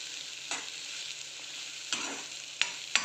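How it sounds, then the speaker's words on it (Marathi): Spices for a cluster bean curry sizzle steadily in a hot pan, broken by a few sharp scraping stirs of a spoon against the metal; no voices. "चांगलं परतून घ्यायचं आहे आपल्याला"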